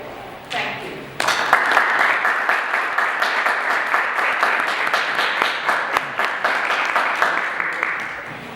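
A large audience applauds after a graduate presentation, sustained dense clapping that swells in near the start and continues steadily, with occasional voices mixed into the crowd noise.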